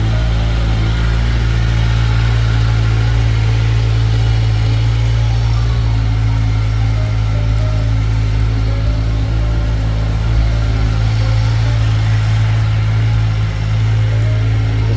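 A Kawasaki Versys 1000 SE LT Plus adventure motorcycle engine running close by, a loud steady low rumble with slight rises in revs and no talking.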